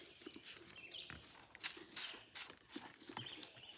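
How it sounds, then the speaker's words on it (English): Birds chirp and tweet outdoors in quick bursts, moderately close, over faint background rustle and occasional knocks. "You hear all the birds?"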